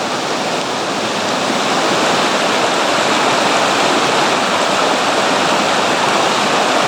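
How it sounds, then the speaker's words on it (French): A waterfall at Mont Dore roars in a continuous, loud, dense rush of falling water, steady and unbroken throughout with no voices. "On aperçoit déjà la cascade là-bas."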